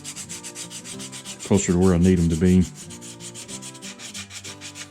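Sandpaper rubs steadily back and forth over a carved wooden bass fish, smoothing deeply cut scale and growth-ring details; the scratchy strokes continue close up while someone speaks briefly in the middle.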